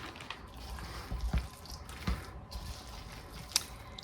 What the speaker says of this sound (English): This is where it gets hard to stir, so Doug gets this job.